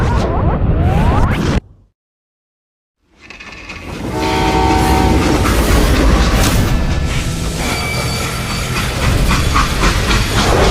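A freight train in the Western game Call of Juarez: Gunslinger rolls along loudly with steady rumble and hiss, a tonal horn-like blast layered in, after a brief dead-silent gap near the start.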